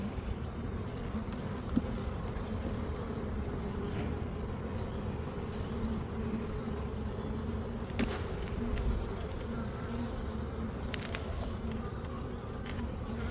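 Honey bees buzz in a steady, dense drone throughout an October beehive inspection, close and continuous with no talking.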